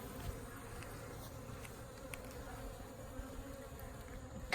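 Honey bees buzz around an opened hive being expanded, a soft, steady droning hum from many insects close by, continuing without a break.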